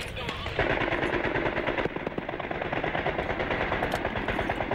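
Rapid bursts of automatic gunfire from fighters advancing toward the town of Zlitan during fighting in Libya, a dense, continuous rattle of shots running throughout.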